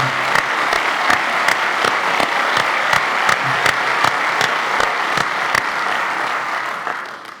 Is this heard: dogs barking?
no